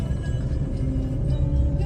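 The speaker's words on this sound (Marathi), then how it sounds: "ट्रॅफिक बघाय लागले" Road traffic near Lonavala rumbles on a busy Sunday, a continuous low vehicle drone heard close and steady throughout.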